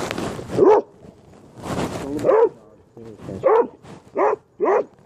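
A dog lets out a string of short barks and yips mixed with whiny whimpers, close by, with a person talking between them.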